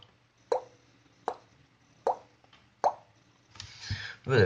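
A voice imitates dripping water: four evenly spaced tongue-click plops shaped with a wah, close and clear, followed by a louder, noisier mouth sound.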